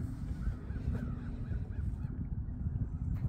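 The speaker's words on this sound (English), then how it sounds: "There's a noisy fucking geese." Geese honking at Wingfoot State Park in Sheffield, Ohio, a few nasal calls in the first half, moderately distant, over a low rumble of outdoor background noise.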